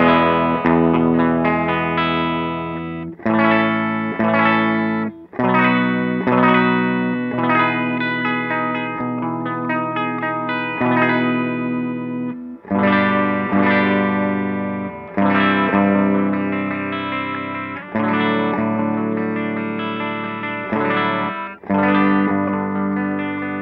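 A Gibson Les Paul Standard electric guitar with humbucker pickups played clean, sounding chords and arpeggiated phrases in sustained, ringing passages with brief gaps between them and no talking.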